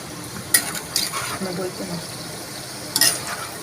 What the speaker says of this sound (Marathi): आता आपण त्याला थोडंसं हलकंसं हलवून घेऊयात